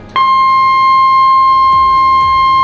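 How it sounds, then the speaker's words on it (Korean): A ship's emergency alarm siren sounds on the bridge during an oil spill at the bunker station, a loud steady electronic tone starting abruptly and holding unbroken, with faint thumps beneath. "브릿지의 선장은 비상경보를 발령하고"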